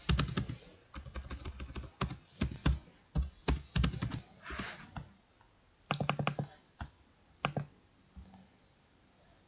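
Someone types on a computer keyboard in quick bursts of close, crisp key clicks separated by short pauses, with no talking.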